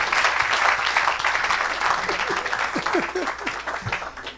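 Church congregation applauding and cheering in acclamation of the Lord, a dense continuous wash of clapping with scattered voices calling out over it throughout.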